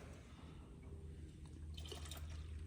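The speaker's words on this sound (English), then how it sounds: "I'm gonna put some diesel in it." Diesel glugs and trickles from a jug into the fuel tank of an RV-6A airplane before a cold start, a steady low liquid pour with faint splashing that swells louder toward the end; no one speaks.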